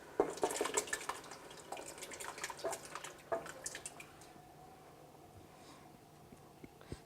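Tomatoes tipped from a bowl into a pot of softened onions, garlic and herbs, a quiet wet tumble and spatter with clinks of spoon on bowl, fading to a faint sizzle.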